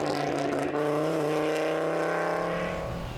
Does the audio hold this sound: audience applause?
no